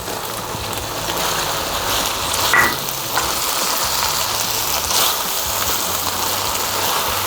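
Onion stir-fried in a pan for Korean stir-fried squid gives a steady, moderately loud sizzle, with a brief clatter of stirring partway through and no voices.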